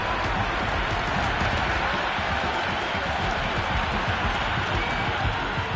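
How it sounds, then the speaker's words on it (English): Dense, roaring stadium crowd cheering a six during an India vs Australia T20 World Cup cricket match, a loud continuous wall of massed voices with scattered claps, steady throughout and with no clear pauses. "Will you listen to that crowd? They are loving this."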